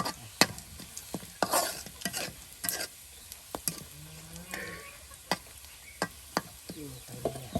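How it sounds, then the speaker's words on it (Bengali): Spices sizzle and fry in a pan for a beef curry while a utensil stirs and scrapes in irregular bursts, with sharp clinks against the metal; no talking. "একদম ভাজা ভাজা করে নেওয়া হলো"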